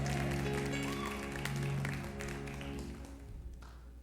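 Church congregation applauding together during a worship service, a dense round of clapping over lingering organ or keyboard tones, fading slightly toward the end.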